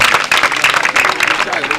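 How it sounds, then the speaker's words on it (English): Audience at a sickle cell gene awareness campaign event in Amai Kingdom clapping loudly and steadily for a woman, a dense close burst of hand claps with voices mixed in. "Clap for her."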